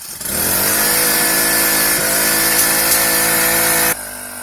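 A small gasoline engine on a 2-inch gold dredge starts up and runs steadily at a loud, droning idle for several seconds, then abruptly cuts to a lower, quieter level near the end.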